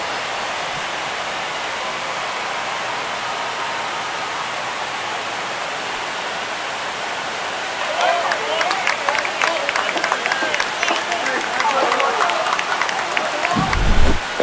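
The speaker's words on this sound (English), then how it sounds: "This crowd is on fire right now. They're going nuts thanks to that home run." A big ballpark crowd in MLB The Show 25 roars after a home run in a postseason Mets versus Dodgers game, a broad wash of noise swelling partway through into dense cheering and clapping.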